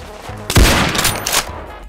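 A sniper shot fires in Roblox Arsenal, one sharp loud blast with a brief rumbling tail, close and alone.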